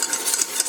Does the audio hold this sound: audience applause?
no